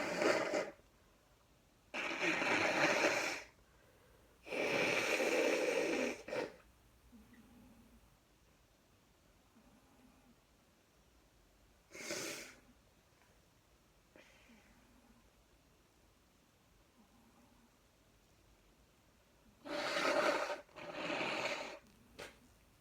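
A person blows their nose in several loud, noisy bursts separated by quiet pauses, close to the microphone, with a couple more blasts near the end.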